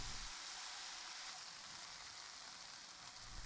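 Pork cooking in a pan over medium-high heat gives a steady, dense sizzle with even frying crackle throughout, faint and continuous with no talking.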